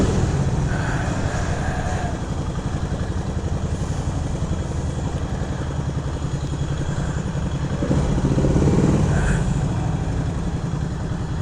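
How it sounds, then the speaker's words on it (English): A 1975 Moto Morini 3½ motorcycle idles steadily up close, its dry clutch adding a faint rattling chatter to the even engine throb for the whole stretch. "You can hear the dry clutch on it."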